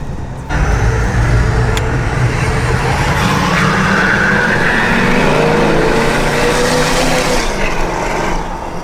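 A tuned Nissan Titan XD pickup truck roaring with a loud, raspy exhaust, a steady close engine drone that holds for several seconds with slight rises in pitch.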